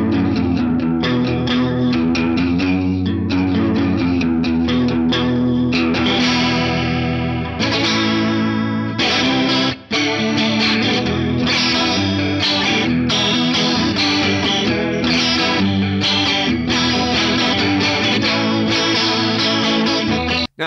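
Electric guitar through a wobbly chorus effect in the style of an Electro-Harmonix pedal, with some distortion, strummed chords ringing continuously and loudly with a swirling, modulated shimmer and only brief gaps.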